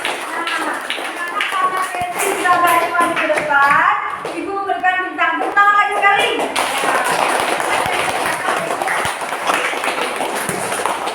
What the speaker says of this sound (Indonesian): Tepuk tangan lagi sekali.